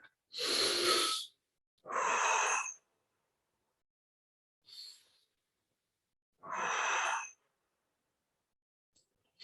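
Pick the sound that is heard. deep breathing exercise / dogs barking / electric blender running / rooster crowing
deep breathing exercise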